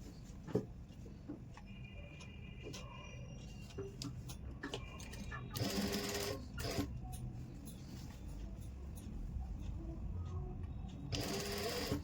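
A sewing machine stitches a shoulder seam on a suit with soft, fast mechanical clatter, running in short bursts with pauses between, quiet and close with no talk.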